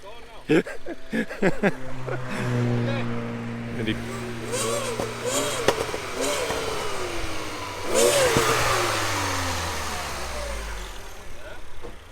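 A Mini Cooper S with a blown turbo revs up in two rising and falling engine surges over a low idle, heard close and loud, with people talking over parts of it.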